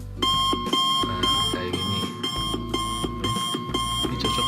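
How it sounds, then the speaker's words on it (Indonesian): An alarm clock sound effect rings in rapid repeating beep bursts with short pauses, loud and steady throughout, as a voice speaks briefly over it. "kayak ini suara alarm."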